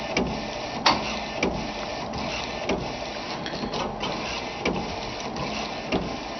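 A T-Jet direct-to-garment shirt printer lays down a white underbase, its print head carriage whirring steadily with regular clicks and thumps as it shuttles back and forth, heard close and alone.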